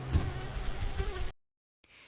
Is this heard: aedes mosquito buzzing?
yes